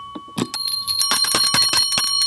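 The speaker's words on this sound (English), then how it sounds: "enough with the bells." A bicycle-style bell rings with a sustained metallic tone while a quick clatter of rattling, jingling hits builds up and keeps going, loud and close.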